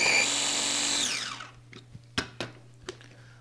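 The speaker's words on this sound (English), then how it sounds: "Anytime you're dealing with a food processor, just be extra careful with those blades." A food processor whirs loudly, blending frozen orange pieces into sorbet, then winds down and stops, followed by a few sharp knocks and clatters in the quiet.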